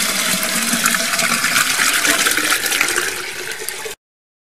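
Water gushing steadily and loudly, as when 20 litres are poured into a container to mix with lime, continuing for about four seconds before cutting off abruptly to silence.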